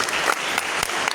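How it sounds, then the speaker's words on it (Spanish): A church congregation applauds, a dense, continuous patter of clapping heard close and fairly loud for about a second. "Un aplauso para las mujeres, gloria a Dios."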